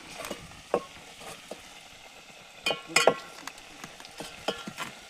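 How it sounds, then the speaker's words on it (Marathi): Garlic with red chili masala sautéed in a pan on a wood-fired village stove for chicken: a quiet, steady sizzle with scattered scraping stirs and light clinks of a spoon against the pan, loudest around the middle. "त्यानंतर तिखट मसाला चांगला परतून घ्यावा लागतो."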